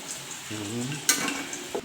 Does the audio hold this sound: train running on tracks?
no